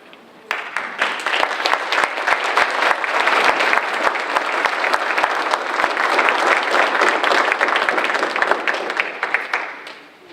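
A standing audience at a school district enlistment recognition ceremony claps for young enlistees, a dense, loud burst of applause that holds steady for around ten seconds and then fades.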